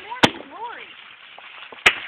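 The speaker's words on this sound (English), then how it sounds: "Those are firecrackers." Firecrackers go off outdoors as two sharp, loud cracks about a second and a half apart, with people talking faintly between them.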